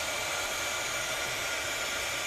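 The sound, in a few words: blow dryer running during mixed media crafting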